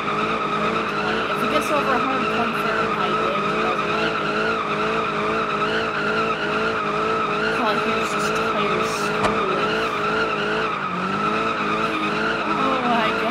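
Ford Fusion being pushed hard, its tires squealing and skidding continuously in loud, wavering screeches with engine noise beneath, while people talk briefly over it.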